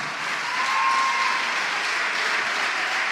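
Steady applause from a church congregation during a worship service, a dense, even wash of clapping throughout with a faint tone briefly above it.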